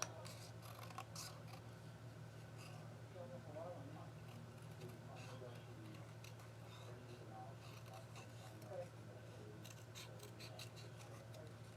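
Scissors cut paper around a shape for a handmade card. Soft, faint snipping and rustling repeats irregularly over a steady low background hum.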